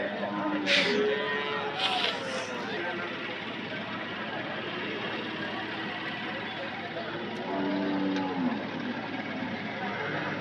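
Cattle moo at a busy livestock market in Anthiyur, with several drawn-out lowing calls near and far over constant crowd chatter and people talking close by.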